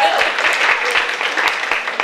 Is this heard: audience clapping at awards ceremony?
yes